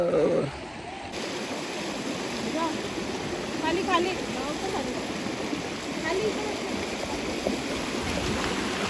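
A river flows with steady broadband rushing water throughout, with people talking over it and occasional splashes nearby.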